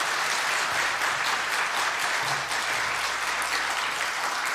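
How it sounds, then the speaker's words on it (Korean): A church congregation gives Pastor Do Won-uk a warm welcome with loud, dense, continuous applause over a low steady hum, holding its strength throughout. "뜨거운 박수로 맞이하시겠습니다."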